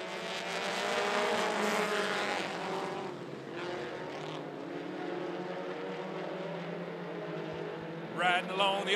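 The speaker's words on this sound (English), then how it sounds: "mini stock heat race number two." Mini stock race cars in a heat race at 411 Motor Speedway: a loud, continuous roar of several engines droning and shifting pitch as the pack passes, with a voice over a PA speaking near the end.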